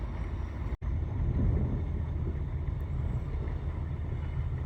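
A rear-engined diesel vehicle rolls slowly over rough ground, giving a steady, close low rumble with broadband wind-like noise, one sharp brief dropout near the start, and no talk.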